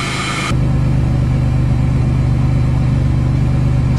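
A 1998 Chevrolet Lumina LTZ, started after sitting unused for three years, idles steadily and loudly up close after a brief burst of higher noise at the start, its engine hum holding an even, constant drone throughout.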